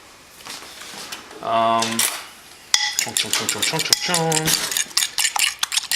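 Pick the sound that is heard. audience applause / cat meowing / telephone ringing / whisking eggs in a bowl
whisking eggs in a bowl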